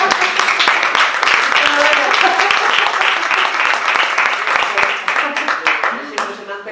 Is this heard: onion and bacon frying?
no